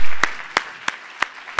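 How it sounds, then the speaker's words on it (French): Five sharp, evenly spaced claps ring out from the audience at a 2014 Maserati partners event. Each clap stands alone in a quiet room, with no talking. "je pense qu'on peut l'applaudir quand même encore une fois"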